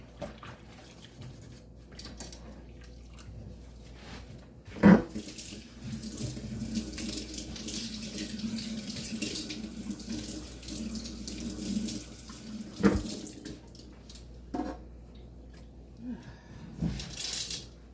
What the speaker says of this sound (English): rinse my tongs off